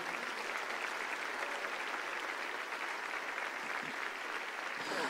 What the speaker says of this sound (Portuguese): Aplauda forte aí, querido.